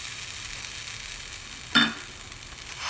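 Grated coconut sautéed with roasted spices in a pan for vangi bath, a steady close hiss of sizzling with one brief louder scrape of a spoon near the end.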